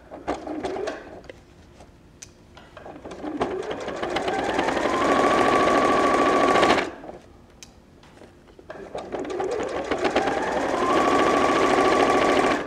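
Sewing machine stitching repeated seams on an overnight bag, running in two long bursts with a steady whirring hum and rapid needle clatter, pausing briefly between runs; no talking.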